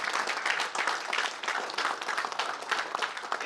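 Audience applause at a business ethics lecture session, a dense, steady wash of many hands clapping that holds at an even level throughout with no pauses.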